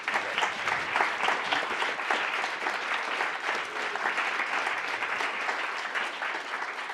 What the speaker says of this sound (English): I would love to give a round of applause to this panel